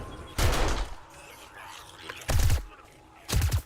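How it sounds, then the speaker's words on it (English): Automatic turrets in a horde-night survival game fire in three short, loud volleys at a screamer horde, sharp bursts of gunfire separated by quieter gaps of ambient noise. "the turrets just tried shooting when it sends it downstairs"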